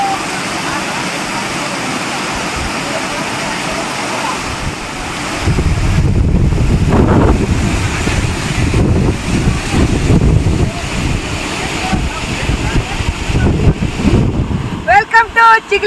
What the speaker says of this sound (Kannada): ಅಲ್ಲಿಂದ ನೀರು ಹರಿದು ನೋಡಿ ಇಲ್ಲಿ ಜಲಪಾತ ಕೆಳಗೆ ಬೀಳ್ತಾ ಇದೆ.